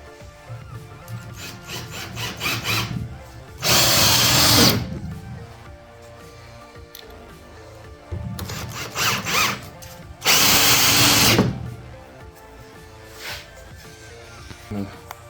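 A power drill drives screws into a slat-top outdoor wood bench in two long, loud whirring bursts, each preceded by shorter revving pulses, with quieter handling noises between them.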